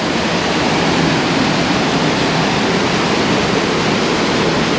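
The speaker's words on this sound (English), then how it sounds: "So we get a view from the top of the waterfall." Bald River Falls near Tellico Plains, Tennessee, pours as a loud, steady rushing roar heard up close from the top, with no break or other sound.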